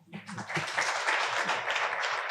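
An audience at a college 50th anniversary celebration applauds after a congratulatory speech. The clapping is steady and moderately loud but lasts only a couple of seconds.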